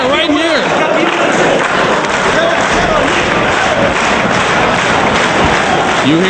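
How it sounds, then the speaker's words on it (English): A wrestling crowd at a pro wrestling event roars with continuous cheering, shouts and applause, loud and dense throughout with scattered whistles. "You hear the crowd."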